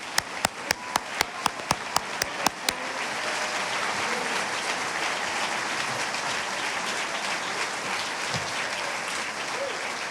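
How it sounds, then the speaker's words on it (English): Graduation audience at a 2018 academy senior ceremony rises and applauds a salutatorian heading to the podium: a few sharp, evenly spaced claps up close, then a broad sustained wave of crowd applause filling the hall for several seconds. "Could we all rise and applaud the accomplishments of George Poulos as he comes to the podium for his salutatorian address"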